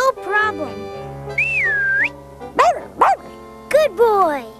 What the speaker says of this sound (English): You better whistle up your sniffer hound, Snuff.